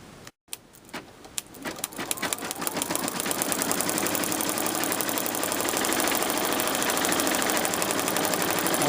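An embroidery machine stitching a tack-down over Mylar, starting with a few separate stitch clicks and then settling into a fast, steady mechanical chatter that grows slightly louder and stays close.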